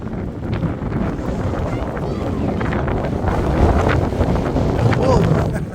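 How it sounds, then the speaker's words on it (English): Strong wind buffets the microphone on the Fleetwood seafront, a steady, loud rumbling roar with gusts building toward the end, waves faintly beneath and a voice talking over it. "Look at that, it's blowing the waves over."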